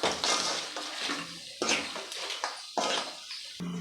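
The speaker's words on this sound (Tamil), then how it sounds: "நண்டு சேர்த்துட்டு நல்லா மசாலா கூட மிக்ஸ் பண்ணி விட்டுக்கலாம்" Crab pieces are stirred into masala in a pan with a wet, scraping clatter that comes in four sweeping strokes, close and moderately loud.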